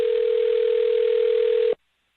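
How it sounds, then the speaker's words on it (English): A telephone dial tone, one steady electronic hum held loud and clean for nearly two seconds before it cuts off abruptly into silence. "I'm going to dial her phone number right now."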